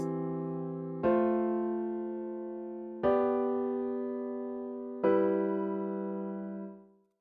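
A sustained chord rings out and is restruck three times at roughly two-second intervals, each attack decaying slowly, with no voices.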